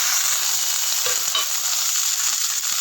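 Onions sauté in a pan with a loud, steady hiss and crackle, stirred now and then, close by and with no voices.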